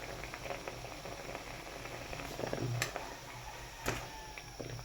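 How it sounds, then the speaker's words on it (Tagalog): Soft, steady bubbling of water at a boil in a pot for noodles, with faint ticks and a few brief clinks over a low continuous hum. "Ayan, kumukulo na."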